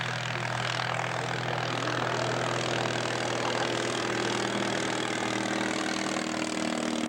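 The 35 horsepower Aeronca engine of an ultralight aircraft runs steadily and close at a constant droning pitch, alone with no talk, at a scale aircraft show.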